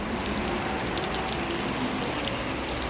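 Steady rain falling outdoors, a dense, even hiss of drops with no pauses, moderately loud and with no voices.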